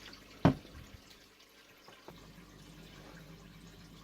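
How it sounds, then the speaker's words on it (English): Water pours and splashes into an axolotl fish tank in a bedroom, a sharp close splash followed by softer trickling and dripping at a low level. "while the water's splashing around, it spreads it throughout the tank"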